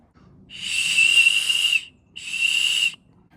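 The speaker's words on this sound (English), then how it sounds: "Nice safety whistle there. Let's give this a little test." Safety whistle from a Rhino Rescue first aid kit tested outdoors on a hike: two loud, shrill blasts, a long one followed by a shorter one, with no talking.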